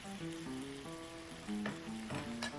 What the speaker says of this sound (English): Stir fry until brown. Add in the pork ham slices